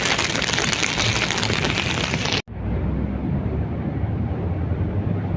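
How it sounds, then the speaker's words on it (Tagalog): Heavy rain pours steadily and loudly on a street in Baguio City, Philippines, a dense hiss that briefly cuts out and then continues slightly muffled. "malakas ang ulan"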